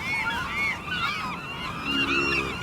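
Harsh, repeated seabird squawks and honking cries from a seagull in the video game Path of Exile, loud and continuous with wavering calls layered over one another.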